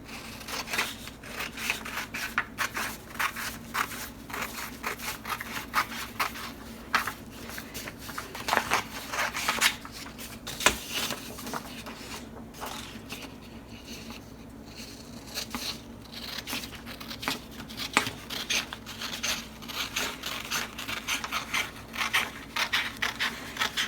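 Sublimation transfer paper is trimmed by hand for a double-sided garden flag, giving a long run of close, dry crisp cutting and scraping strokes that repeat unevenly with no voice.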